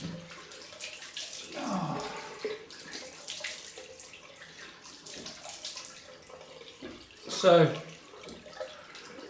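A bathroom tap runs for a cold rinse after a wet shave, with splashing and a gurgling surge of water near the end. Someone speaks briefly.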